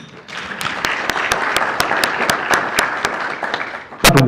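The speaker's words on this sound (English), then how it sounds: "I think they deserve a round of applause." An audience at an IEC Gauteng electoral democracy seminar breaks into sustained applause, a close, even wash of clapping with a few sharp, regular claps standing out, swelling louder near the end.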